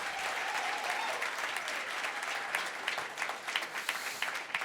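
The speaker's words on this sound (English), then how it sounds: "another round of applause." A crowd claps through a round of applause at the Belting For Life charity event, a dense, sustained patter with individual louder claps sprinkled near the end.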